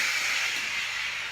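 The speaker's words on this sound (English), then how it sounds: "I'm just gonna do it with my emulsifier." Immersion blender whirring steadily while mixing eggs for a breakfast casserole, a continuous hissy motor whine with no break for a second or so.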